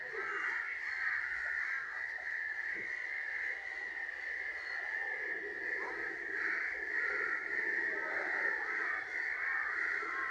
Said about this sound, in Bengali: দেখছেন কতগুলা কাক আইছে